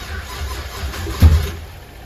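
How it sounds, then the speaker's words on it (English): A freshly built 6.0-litre engine in a GTO fires for the first time, a brief loud catch and burst about midway through, rising above a low, steady background rumble before easing off. "once we get the startup tune, we can actually fire it"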